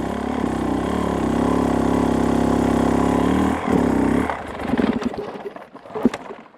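An enduro motorcycle engine holds a steady, close, throaty idle, then sputters and blips in uneven bursts as the clutch is worked, with one sharp rev near the end.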